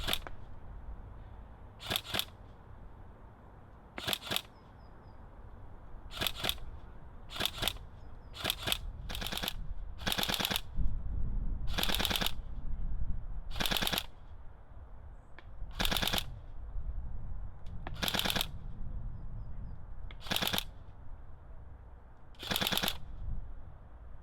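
Tokyo Marui AK-47 Type 3 Next Gen Recoil electric airsoft gun fires single shots at a mannequin 50 meters away, about fifteen sharp clacks at irregular intervals over quiet outdoor background noise.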